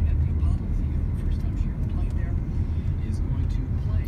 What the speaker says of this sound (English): Oh, it's traffic.